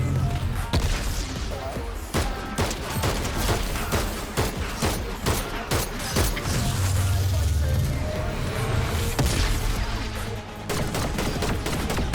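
Rapid bursts of gunfire in the Fortnite video game, dense overlapping shots and impacts running nearly throughout at steady loudness, with a voice talking over the action.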